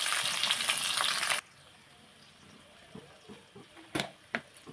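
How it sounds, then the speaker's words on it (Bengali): Hog plums (amra) hitting hot oil in a pan for pickle, a loud dense sizzle for a second or so that then cuts to quieter faint crackles and a few clinks. "আমড়াগুলো দিয়ে দেবো। একটু ভেজে নেব।"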